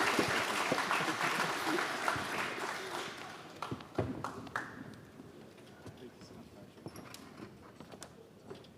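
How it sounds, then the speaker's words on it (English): Applause at an energy forum starts as a dense burst of clapping and thins into scattered, separate claps that fade out over several seconds, with faint voices underneath. "Please give them a round of applause."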